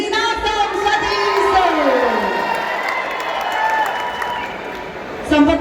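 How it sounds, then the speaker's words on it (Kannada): An audience claps and cheers at a trailer launch event for the Kannada film The Rise of Ashoka, a steady wash of applause under music and an amplified voice, swelling briefly near the end. "ದಯವಿಟ್ಟು ಜೋರಾದ ಚಪ್ಪಾಳೆ"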